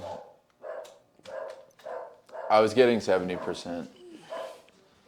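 Several dogs bark in short repeated bursts, fairly close, with a person talking over and between the barks.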